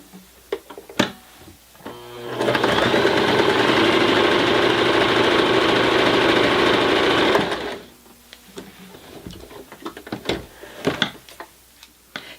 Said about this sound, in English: here is another sample to show you how it stitches through multiple layers.